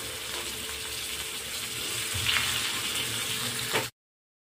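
Steady frying sizzle of cumin and onion cooking in hot oil, a constant crackling hiss with a few sharper pops, then it cuts off abruptly.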